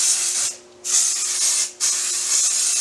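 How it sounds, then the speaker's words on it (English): Ease Release 200 mold release sprays from an aerosol can onto a sculpted Mandrake model in three loud, close, hissing bursts, each about half a second to a second long, separated by short pauses. "is to spray the model release, or the mold release. And I'm using Ease Release 200."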